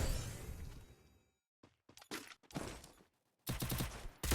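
Bursts of MP5 gunfire in a video game come in several short rapid volleys separated by brief silences, fairly close and punchy, with a sharp final burst at the end.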